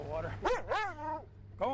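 A dog barks in a flooded house, a few sharp yelping barks close by, overlapping with a man's speech.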